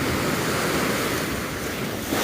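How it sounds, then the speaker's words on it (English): Surf at Railay Beach, Thailand, rolls in as a steady loud wash of waves with wind buffeting the microphone and no talking. "We're at a beach in Thailand."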